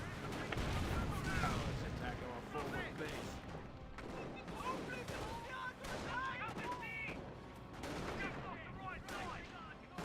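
Gunfire and heavy artillery blasts from a Company of Heroes battle, including a 25-pounder, booming in a dense, continuous stream of shots and explosions beneath steady commentary.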